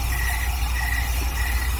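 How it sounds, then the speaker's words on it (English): Crickets chirp steadily in a continuous faint trill over a constant low background hum, no voices present. "Wait for the crickets to stop."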